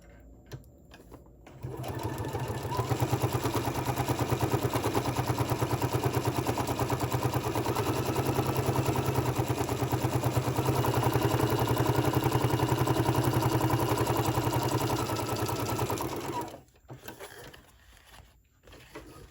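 A sewing machine stitches through scrap paper for a die-cut embellishment, starting after a quiet pause with a steady rapid whirring chatter held close and loud for about fifteen seconds, then stopping into quiet handling noises.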